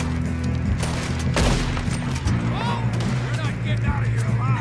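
Gunfire in Red Dead Redemption 2: a loud close gunshot boom rings out early, with further shots and rumbling game noise following, while a person talks over the action.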